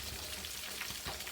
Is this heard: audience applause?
no